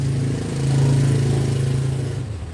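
A vehicle engine revs on a street in Da Nang's expat area. It gives a loud, steady low drone that swells and then holds, close by, before it eases off near the end.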